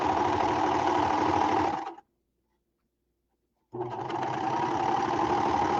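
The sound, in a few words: Baby Lock serger sewing fabric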